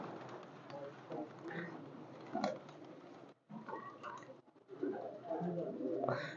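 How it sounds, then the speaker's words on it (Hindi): Imported Iranian high flyer pigeons coo softly and repeatedly close by, with low throaty calls overlapping against a faint background. "पर यकीन माने कि ये ईरानी आई फ्लायर कबूतर है"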